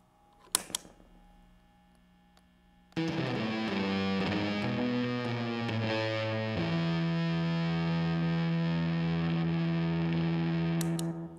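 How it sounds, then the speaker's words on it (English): A guitar-like robot monochord instrument gives off a sustained, distorted electric-guitar tone that starts abruptly after a few clicks and holds steady, shifting pitch partway through, loud and alone. "So that one sort of sounds like an electric guitar and operates like an electric guitar"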